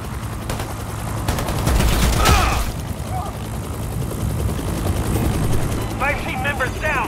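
Bursts of automatic gunfire crackle in Predator: Hunting Grounds, a dense rattling volley in the first few seconds followed by quieter game ambience, with voices speaking over it.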